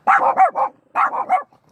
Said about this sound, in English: I apologize for the barking. It gets loud, I know.